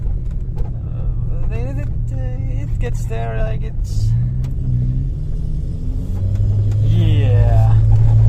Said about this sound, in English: It's not the quietest car, especially with the exhaust being loud